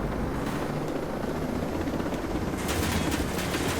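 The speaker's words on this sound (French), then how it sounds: "Ah, il y a un autre hélicoptère, il y a quelque chose." Rapid thudding helicopter rotor chop with a steady engine roar in the video game Ghost Recon Breakpoint, constant and fairly close, no voices.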